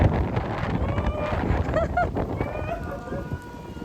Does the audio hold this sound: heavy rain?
yes